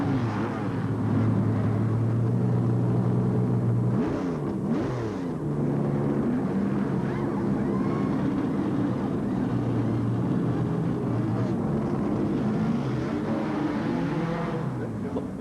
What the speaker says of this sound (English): here's Labonte's car into the pits